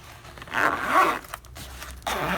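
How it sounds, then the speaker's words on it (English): A zipper on a small drone case is drawn closed in a couple of quick scraping pulls, close up and fairly quiet, with short pauses between strokes. "zips up"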